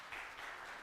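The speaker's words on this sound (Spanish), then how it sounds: "Un fuerte aplauso para Jorge." Conference audience at a developer event clapping for a speaker as he takes the stage, a brief, fairly soft patter of applause heard from within the hall.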